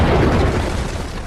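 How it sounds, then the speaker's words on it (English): A replica castle cannon, set off by an electric spark in a quarry, fires with a single loud, deep boom that rumbles and fades over about a second. "The cannon blasts with unbelievable power."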